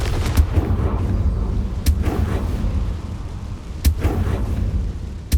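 A Confringo blasting curse cast in Hogwarts Legacy: heavy booming blasts with sharp cracks, about three strong hits spaced roughly two seconds apart over a dense, rumbling low-end din.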